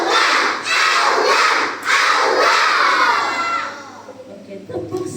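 A crowd of children shouts loudly in unison, a few strong bursts in quick succession that resemble a repeated chant, close and energetic, before trailing off to scattered chatter.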